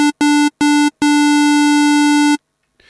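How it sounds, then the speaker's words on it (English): Square wave synth tone from a Native Instruments Massive soft synth, a bright buzzy sustained note at one pitch, played as three short stabs and then a long held note that cuts off cleanly, alone with no talk. "roll the wet position over to the left, which gives me a square wave"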